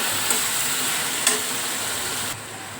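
Taro leaves (kochu shak) with salt and turmeric being stirred in a hot pan, a steady broadband sizzle with a couple of brief scraping clicks, close and fairly loud, no voices.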